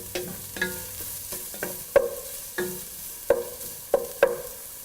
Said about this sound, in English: Saute for 3 minutes on medium flame.